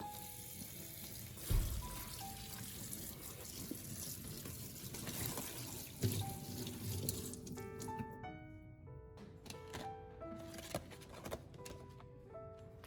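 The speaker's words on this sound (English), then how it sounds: "I collect them after each use and wash them thoroughly under running water with dish soap" Used plastic food containers are washed with dish soap under a running tap, a steady gush and patter of water that continues throughout at moderate-to-low level.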